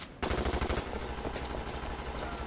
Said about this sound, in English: Scarface starts talking trash and then opens fire.